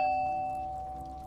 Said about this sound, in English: Why did the person at the door ring the doorbell for all this time